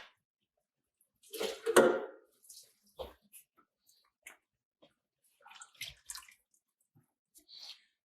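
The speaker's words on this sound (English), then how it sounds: "I do add a little water to the pan and get to the rest of the tomatoes out" Water poured into a pan of leftover tomatoes for marinara sauce, then swirled: a brief gush of pouring followed by scattered small sloshes and clinks, quiet and close, with no voices.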